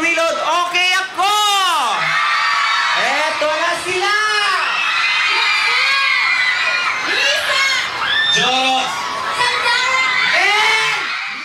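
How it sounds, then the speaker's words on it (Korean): A packed crowd outside a department store cheers and screams loudly, with high-pitched shouts and whoops rising in repeated waves throughout, the excitement sustained and close. "산다라 목소리가 들리자 가장 많이 환호하는 사람들."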